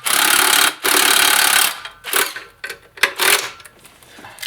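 Ratchet with a 15 mm deep socket tightening an intake manifold bolt on a Ford 4.6L V8, sounding as bursts of loud rapid clicking followed by shorter, sparser clicks.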